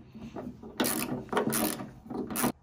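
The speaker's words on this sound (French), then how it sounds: "Une douille de 10. La clé à cliquet. Et ça vient tout seul." A ratchet wrench fitted with a 10 mm socket clicks in three quick bursts of loud, close pawl chatter while unscrewing nuts, separated by brief pauses and with no talk.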